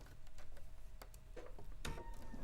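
A home sewing machine stitching across a fabric seam, a quick run of light mechanical ticks and whirring bursts, close and fairly quiet.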